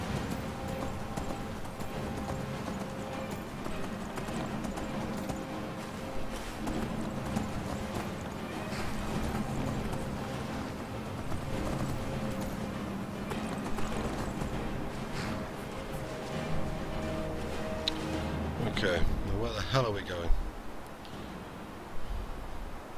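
Horse hooves clip-clopping in the survival video game Skyvival, a steady rhythmic trot of moderate loudness that runs throughout, with a brief whinny-like flourish near the end.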